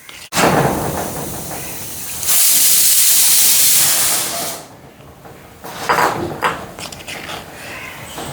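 Coconut milk curry of banana stem warms in a pan on a stove, giving a steady loud hiss and bubbling for a few seconds before it fades to softer sizzling and a few clinks.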